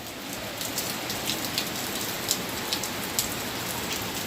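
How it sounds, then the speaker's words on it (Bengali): Rain pouring steadily outside a home by a balcony railing, a dense even patter with occasional sharper drops, moderately distant and alone without voices. "বৃষ্টি হচ্ছে, খুব সুন্দর বৃষ্টি"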